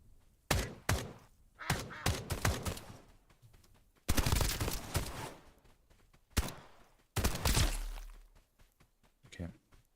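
MP5 gunfire in the Escape from Duckov video game: several loud, close bursts of rapid shots with pauses between them, heard alongside a talking voice.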